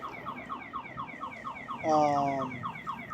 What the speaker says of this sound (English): Someone has touched a vehicle that is apparently going off.